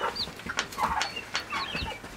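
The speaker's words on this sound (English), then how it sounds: "They're my favorite chicks." Hens clucking among their chicks on a farm, with short soft clucks and thin high peeps repeating close by in a brief, busy stretch of barnyard chatter.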